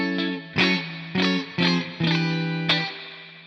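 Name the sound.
guitar amp simulation with heavy spring reverb, AmpliTube 5 MAX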